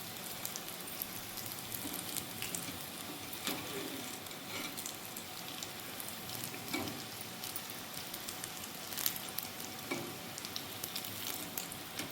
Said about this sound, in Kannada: ಸ್ವಲ್ಪ ಎಣ್ಣೆಯನ್ನು, ಬಿಸಿ ಎಣ್ಣೆಯನ್ನು ಇದಕ್ಕೆ ಹಾಕೋಣ